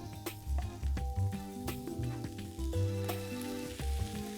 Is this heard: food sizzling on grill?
yes